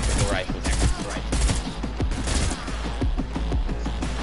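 Rapid auto rifle gunfire in the Cyberpunk video game, dense overlapping bursts of sharp loud shots crackling continuously with a faint voice underneath.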